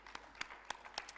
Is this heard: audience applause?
yes